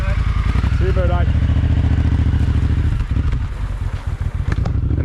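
A touring motorcycle idles loudly nearby, then pulls away with a rising engine note and fades as it departs, while people talk over it.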